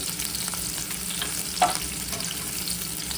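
Sliced onions and green chillies frying in oil in a pan, a steady close sizzle with occasional stirring scrapes and one brief louder clack midway.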